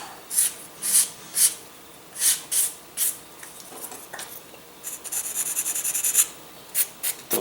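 Sandpaper rubbing laser-cut tab burrs off a small 13mm rocket glider fuselage pod, short close scratchy strokes in uneven bursts, then a longer continuous rasp and a few final strokes.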